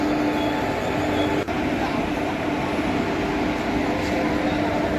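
A steady rumbling drone of a departing Khopoli train at a station, constant and fairly loud, with a faint tonal hum and murmured voices in the background.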